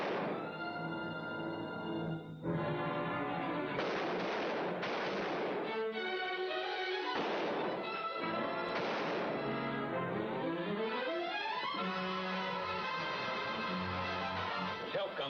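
Gunfire in a western shootout, with several loud cracks and bursts of shots spread over a busy, overlapping background of music and voices.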